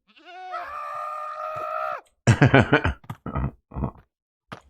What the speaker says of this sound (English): This goat sounds crazy.